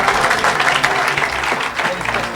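A church audience applauds, a dense, continuous clatter of many hands held close and loud throughout.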